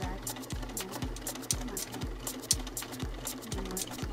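A sewing machine straight-stitches around a jeans hem beside the original hem, running at a steady fast rhythm with a regular thumping pulse, close and even, with no talking.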